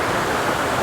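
Waterfall at National Falls pouring in a steady, dense broadband rush, continuous and fairly loud with no voices over it.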